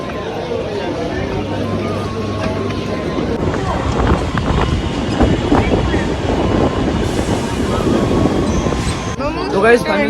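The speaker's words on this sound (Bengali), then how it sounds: "এতটা ক্রাউড দেখো ট্রেনের মধ্যে" A crowded passenger train rolls along with a loud, steady rumble and clatter, while many voices chatter throughout the carriage.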